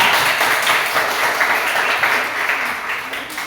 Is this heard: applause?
yes